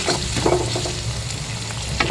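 Beetroot sautés in a pan with a steady crackling sizzle, a few brief stirring scrapes breaking through the close, moderate frying noise.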